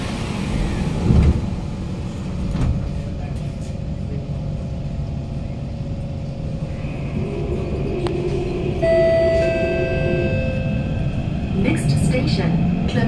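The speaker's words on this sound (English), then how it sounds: "wheels are counting." An SMRT KHI C151 train with PMSM traction runs on the East-West Line between Jurong East and Clementi, heard from inside as a continuous rumble of wheels on rail with a faint electric whine that swells toward the end.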